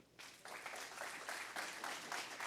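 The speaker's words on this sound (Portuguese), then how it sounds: "Vamos aplaudir o Senhor." Congregation applause at an evening church service, a steady wash of many hands clapping that starts abruptly after a brief quiet and holds at a moderate level throughout.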